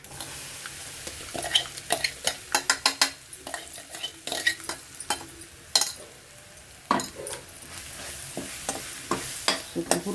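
Ivy gourd with masala powder is stir-fried in a pan, with a soft sizzle beneath frequent sharp scrapes and clacks of a spatula against metal in an uneven, close rhythm.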